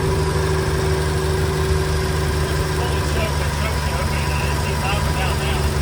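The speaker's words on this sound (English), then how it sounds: "Sounds like a freaking V8." An old Ford F-100 pickup engine idles high with a steady, loud, continuous rumble and even mechanical drone, heard close up with no break in the sound.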